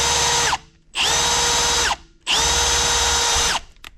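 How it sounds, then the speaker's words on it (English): Power drill boring into an expensive engine cylinder head on a Formula Drift Mustang, fitted with a wobbly bit. The tone is loud and close, with three sustained whining bursts separated by short pauses. "So we're going to drill into this really expensive head"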